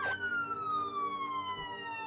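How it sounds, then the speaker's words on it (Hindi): An ambulance siren wails with one long, clear, slowly falling tone, heard fairly close and steady for a couple of seconds with no talk over it. "और कुछ ही देर में एम्बुलेंस वहां पहुंच गई।"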